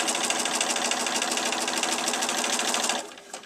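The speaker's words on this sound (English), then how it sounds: "I'm going to flip it over and I'm going to sew back down on the other side." A close, steady sewing machine stitches continuously for about three seconds with a fast, even mechanical buzz, then stops abruptly, leaving only faint room noise.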